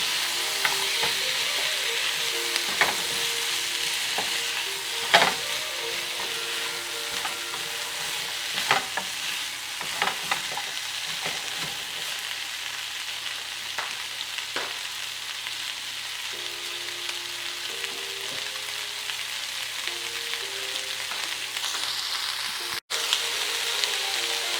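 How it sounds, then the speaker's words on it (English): Tomatoes and peppers sizzle steadily in a pot for a Mediterranean chicken thigh casserole, with repeated scraping stirs and clatters over a continuous frying hiss, close and without talk. "Now we add the tomatoes. And we add the peppers."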